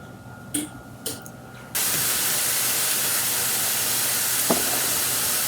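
A couple of brief taps, then a loud, steady sizzle of breakfast food frying on a stovetop bursts up and holds, broad and hissing, with one faint clink partway through.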